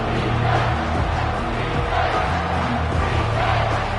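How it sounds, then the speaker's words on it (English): A home crowd at a Notre Dame college football game roars on a third-down defensive play, a loud sustained wall of massed voices and cheering that holds steady throughout. "Here comes this home crowd as the defense tries to get off the field on third down"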